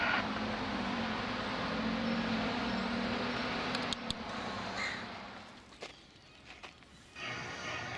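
Spring crows give several harsh caws over a steady outdoor background hum, the calls fairly close and spaced apart, with a few sharp knocks near the middle.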